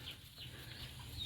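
Faint clucking and peeping from chickens and young chicks let loose on a farm at feeding time, soft and somewhat distant over a low steady background.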